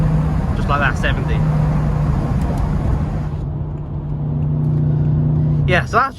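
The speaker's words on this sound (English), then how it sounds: "just a quick little spin to show you the power you can kind of extract from this car" A BMW 650i is driven hard from inside the cabin, its engine droning low and steady under road noise, with someone talking over it at the start and end.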